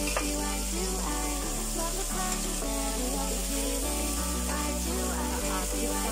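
Sausage with green beans and carrots stir-frying in a pan, a steady close sizzle running throughout with no talk over it.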